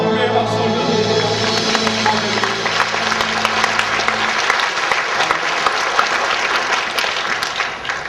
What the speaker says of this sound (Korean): 주님께 경배의 박수 올려드립니다.